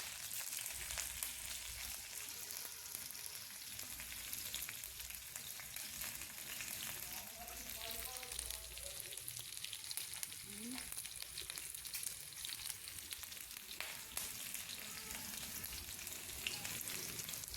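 Green chillies and curry leaves sizzle steadily in hot oil as a dal tempering fries, a continuous soft crackle heard up close with no voices.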